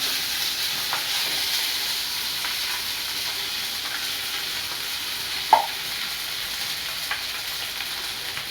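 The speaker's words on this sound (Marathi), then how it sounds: "आता हे साबुदाणा घालून घेणार आहे याच्यामध्ये" Sago pearls stirred and frying in a pan with potato for sabudana khichdi, a steady soft sizzle with faint scraping strokes and one sharper clink near the middle, no talk.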